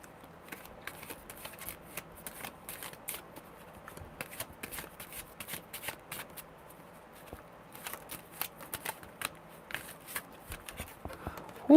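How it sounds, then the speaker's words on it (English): Tarot cards being riffled and shuffled by hand, a run of quick papery flutters and soft slaps in uneven bursts, close and fairly quiet, ending with a sharper knock. "Another good shuffle."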